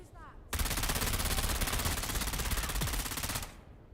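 Rapid automatic gunfire from the video game Dune Awakening rattles in one loud, continuous burst of about three seconds, then stops abruptly.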